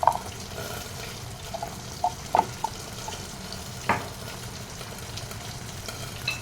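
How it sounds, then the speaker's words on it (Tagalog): Green peas tumble into corned beef sautéing in a pan, giving a soft, steady sizzle broken by a few scattered clinks and taps. "ihulog na rin natin ang ating ayan, green peas para malasa"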